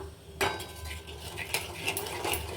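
A spoon stirs milk powder into liquid in a small vessel, with quick metallic clinks and scrapes against the sides, close and fairly loud.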